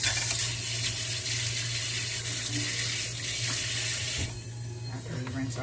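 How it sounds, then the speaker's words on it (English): Running tap water rinsing a spoon at a kitchen sink, a loud steady close rush of water that drops off sharply near the end, followed by faint clinks. "After we rinse off the spoon"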